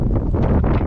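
Strong wind buffets the microphone outdoors beside a small 7-horsepower Kaan petrol tiller, a steady, dense roaring rumble that fills the whole short moment with no voices.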